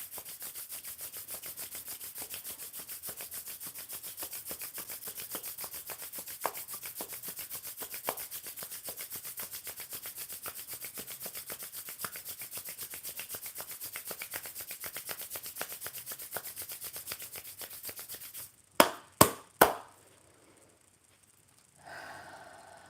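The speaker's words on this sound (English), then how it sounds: "grab your oil. And rub it." Oiled hands rub together close and quiet in a steady, rhythmic swish that runs continuously for about eighteen seconds, then a few louder sharp contact sounds before it trails off.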